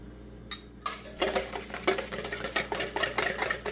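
Eggs being mixed together in a bowl make a quick, steady clicking and scraping of a utensil against the dish, close and fairly quiet, with no talking.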